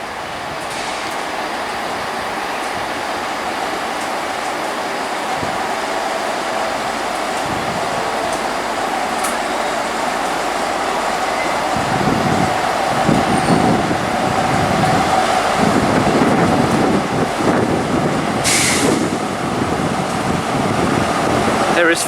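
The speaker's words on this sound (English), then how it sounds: "Arriving in now is a Class 43 HST set bound for London Paddington." A Class 43 HST diesel train arrives at Reading station on the Great Western Main Line, its engine hum building from a steady distant drone to a louder, closer rumble as it pulls in, with a brief high squeal near the end.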